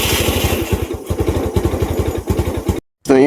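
A small engine runs and idles close by during a battery check, its rapid, even low putter loud and steady before a brief cutoff, with a short squealing tone right after.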